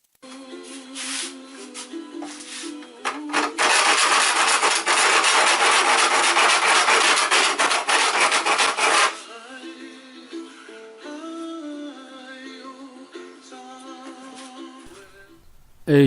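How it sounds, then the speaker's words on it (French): Hand shears cut steadily around a section of a metal awning panel, a dense rasping and scraping burst in the middle, with lighter clicking cuts and handling before and after. "faire tout le tour de la partie à découper à la cisaille et ça se fait relativement facilement"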